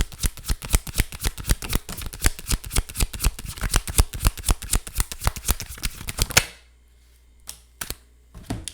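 A tarot card deck shuffled by hand, a fast, loud run of crisp riffling card snaps close up for about six seconds, then quiet with a few scattered card taps.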